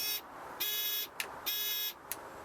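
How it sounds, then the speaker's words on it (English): A velomobile's indicator buzzer sounds in an on-off pattern, several bright high-pitched bursts separated by short gaps, each followed by a tiny click. "there's a little LED light and the buzzer goes"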